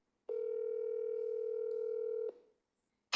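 Outgoing phone call ringing, a single long steady tone lasting about two seconds, clear and alone, then silence before a brief sound at the end.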